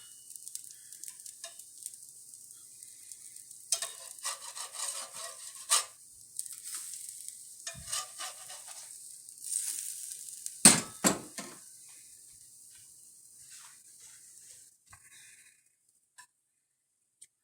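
Pancakes cooking on a hot griddle give a steady hiss of frying, with scattered clinks and taps from a spatula or utensils. A sharper clatter comes in the middle, then the sizzle dies away near the end.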